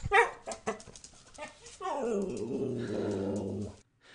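A dog growls in a recorded sample, opening with a few sharp barks and yips before a long, low, steady rumbling growl that holds for about two seconds and then stops abruptly. It is close and clear, and no one speaks.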